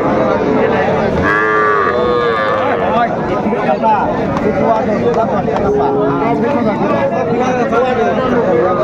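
Young bull calves mooing at a busy village cattle market in Dinajpur, loud, drawn-out calls rising over constant crowd chatter and haggling voices close by.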